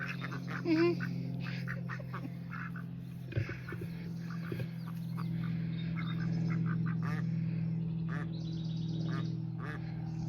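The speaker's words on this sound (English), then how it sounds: "Ducks are curious." Ducks quack intermittently over a steady low hum, the calls soft and scattered, with faint murmurs of people nearby.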